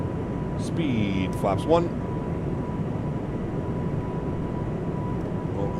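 An Airbus A220 airliner accelerating for takeoff in a flight simulator game, heard as a steady broad engine roar with a constant tone. A voice speaks briefly over it near the start.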